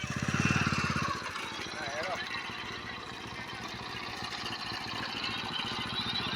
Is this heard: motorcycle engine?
yes